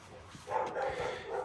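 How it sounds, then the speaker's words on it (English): A pet dog barking somewhere in the background of a room, a few muffled, distant barks and yips at low volume. "my dog's barking, so the dog says hi"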